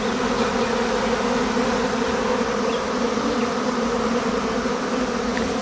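Italian honeybees swarm around a hive, a dense, steady, close buzz holding without pause for the whole stretch, with no voices over it.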